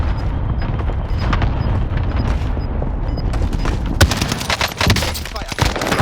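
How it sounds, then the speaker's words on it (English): Tommy gun firing in Call of Duty Warzone at Fortune's Keep, loud continuous automatic bursts with booming impacts, heavier sharp shots toward the end. "I'm just wrecking people with the Tommy gun."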